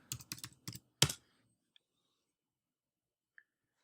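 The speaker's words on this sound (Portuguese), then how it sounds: "vou digitar a minha senha" A password tapped out on a computer keyboard, a quick burst of about five close, crisp key clicks ending in a firmer final press, then near silence with a couple of faint ticks.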